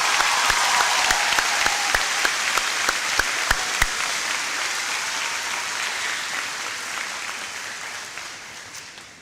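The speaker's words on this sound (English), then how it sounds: "Please, a round of applause." Graduation ceremony audience applauds in a large venue, a few sharp close claps standing out early over a broad wash of crowd clapping that gradually fades away.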